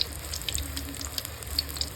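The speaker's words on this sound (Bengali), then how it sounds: "এরপর মাশরুমগুলোকে বেসনে ডিপ করে গরম তেলে ছাড়তে হবে।" Mushroom pakoras in gram flour batter fry in hot oil, giving a brief, moderately loud bubbling sizzle with scattered sharp crackles and pops.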